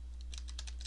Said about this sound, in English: going in and typing text if you need to